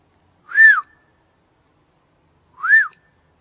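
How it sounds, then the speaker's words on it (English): Two separate short human whistles, each a quick rising-then-falling tone, spaced about two seconds apart at night near an Indian mound, loud and alone with silence between. "I'm going to do a whistle."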